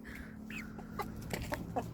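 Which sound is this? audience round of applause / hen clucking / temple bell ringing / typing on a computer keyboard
hen clucking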